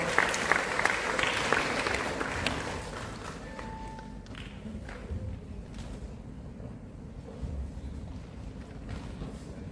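Hall audience at a large festival in Jaffna claps to welcome an honoured guest onto the stage; a burst of loud clapping in the opening seconds thins into a softer, distant crowd murmur with light scattered claps.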